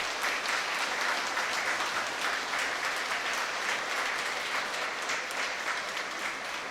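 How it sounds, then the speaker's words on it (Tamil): An audience at a senior citizens' investors' association general meeting gives sustained applause for the association president, a dense, even wash of clapping at moderate level throughout. "ஒரு மிகப்பெரிய கைத்தட்டல் நீங்கள் கொடுக்கணும்"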